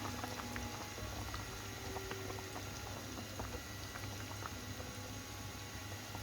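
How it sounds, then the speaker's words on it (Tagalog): Chicken stew with potatoes and carrots simmering in a pot, a steady, even bubbling and gentle liquid patter, close and quiet, continuing without break and with no voices. "Palambutin na lang natin guys ang ating patatas at saka carrots."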